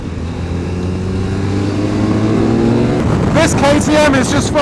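A KTM car drives hard on the Nurburgring, its engine droning loud and steady, then revving higher with rising and falling pitch sweeps. A voice is faintly present underneath.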